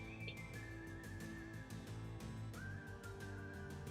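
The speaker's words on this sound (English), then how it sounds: "the whistling cowboy music one of the songs we typically end the show with" A whistled cowboy tune is played as a show's closing song. A clear melodic whistle glides over a steady backing with a rhythmic clip-clop-like beat. It is continuous and fairly quiet.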